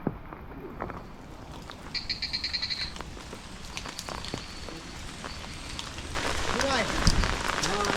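Rain falls steadily on a rural farmhouse yard during a monsoon downpour that is starting to ease, a soft continuous patter under loud, repeated frog croaks, with people talking nearby.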